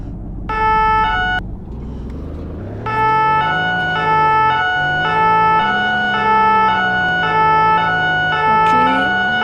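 A police car's two-tone siren in the POLD V video game, set on Paris streets, alternates steadily between high and low pitches, loud and close, over a low engine rumble.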